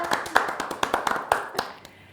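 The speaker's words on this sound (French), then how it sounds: "On peut les applaudir." A small audience claps for a couple of seconds, sparse and uneven hand claps close by that taper off toward the end.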